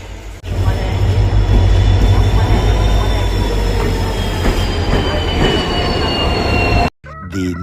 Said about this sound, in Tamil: நாம் போகிற ட்ரெயின் வந்துருச்சு